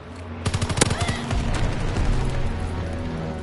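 Rapid bursts of gunfire in a WW2 shooter game, a quick string of sharp shots followed by a sustained dense rattle of battle noise, loud and close throughout.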